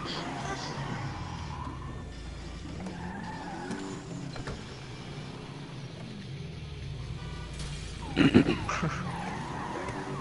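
Cars race and skid in the video game GTA 5: steady engine hum with tire squeals and a harsh burst of skidding or crashing near the end, under people talking.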